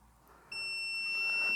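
A LOKLiK Auto Heat Press 2 gives a clear electronic ready beep, a steady high tone that starts suddenly and holds for about a second over faint room hiss.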